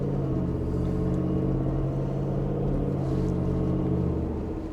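Ford F150 5.0L V8 fitted with a Whipple supercharger drones at a steady, loud, even pitch, a continuous engine rumble with supercharger whine running without any break and no voices.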